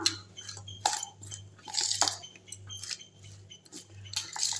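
Papaya salad with raw mango is tossed in a bowl, with soft wet squelches and scattered light clinks of a utensil against the bowl, moderately close and otherwise quiet.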